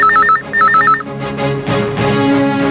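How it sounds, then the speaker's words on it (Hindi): A telephone rings in a police station office, two bursts of warbling electronic ring in the first second, followed by the room's ambient noise and movement. "विक्रांत नगर पुलिस स्टेशन से किसी ऑफिसर का फोन है।"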